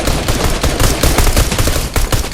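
Rapid bursts of pistol gunfire in a video game, a dense string of sharp loud cracks close together throughout.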